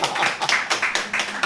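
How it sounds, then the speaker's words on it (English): A quick run of sharp hand claps, about eight in a rapid uneven patter, close and fairly loud, opening a live-streamed SpeakuP Monday talk at Tropical Nomad. "We're waiting for the clap."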